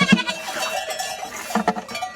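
Goats on a fourth-generation family farm in Italy, heard as several bleats over a faint metallic clink of bells, one near and loud at the start and others spaced out later.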